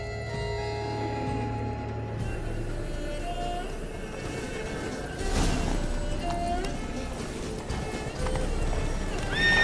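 A horse gallops in The Witcher 3, rapid hoofbeats thudding close and loud, with harness jingles and a whinny, as the pace picks up and voices call out over the running.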